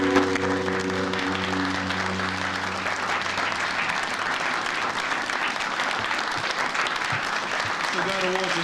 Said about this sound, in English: Now keep that applause going for our next very special guest.